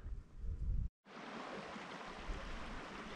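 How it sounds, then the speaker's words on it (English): Creek water at a former M*A*S*H filming location rushes and bubbles in a steady, broadband wash close by, briefly cut out near the start before continuing evenly. "the creek down here, listening to that bubbling water"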